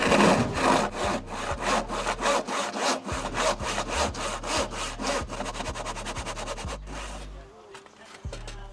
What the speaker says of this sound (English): I'm going to finish this off with a saw, then just go over it with a chisel just to be on the safe side